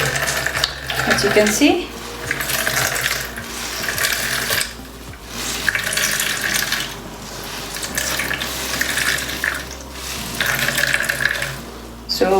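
Vegetable filling for Nepalese momos is squeezed by hand, wet squishing and dripping in repeated bursts over several seconds, with a person talking briefly.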